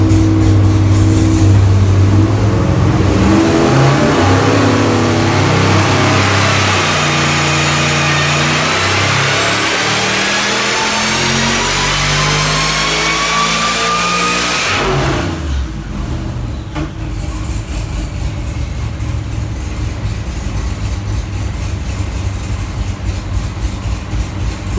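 A supercharged 427 LS V8 in a swapped Chevrolet Vega runs on a dyno, building from a loud, rough roar to a rising high-rpm scream with supercharger whine, then dropping abruptly to a heavy, loud rumble.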